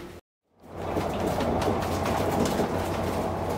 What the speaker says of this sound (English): travelling from Cardiff to Bridgend on the new 197 service